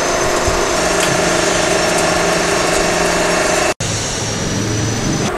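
A compression testing machine applies axial load to aggregate in a steel cylinder, giving a loud, steady mechanical hum and drone that breaks off for an instant and then runs on again.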